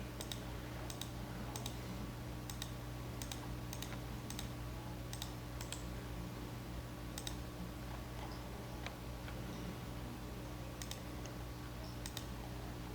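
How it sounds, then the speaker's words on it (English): Mouse clicking while mapping in the Auto Chart Pro depth chart program, a steady series of faint, sharp clicks spaced about every half second to second over a low room hum, with no talking. "To do this again, it's left clicking."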